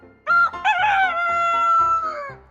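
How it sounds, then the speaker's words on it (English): A rooster crows once, a loud drawn-out cock-a-doodle-doo with a rising start and a long falling tail, close and alone. "Rooster."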